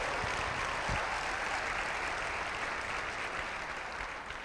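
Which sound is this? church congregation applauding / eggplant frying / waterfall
church congregation applauding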